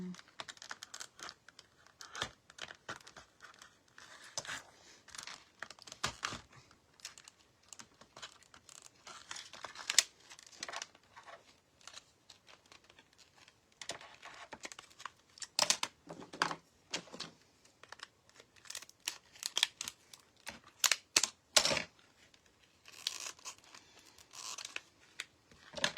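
Scissors cutting and crinkling through stiff plastic packaging around velvet foam Easter egg gold embellishments, a long run of close, irregular snips and crackles with pauses between them, no talking.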